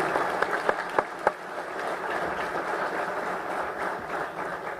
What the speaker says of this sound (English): That's one where a round of applause was appropriate